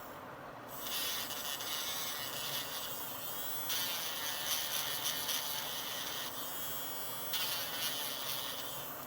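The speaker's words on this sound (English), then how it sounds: "Que é como essa do Dremel que eu tava usando ali. Numa velocidade menor, claro." A Dremel-style rotary tool runs at low speed, sanding UV resin with a steady thin buzz that grinds and rubs continuously throughout, shifting slightly in pitch as pressure changes, fairly close and with no talking.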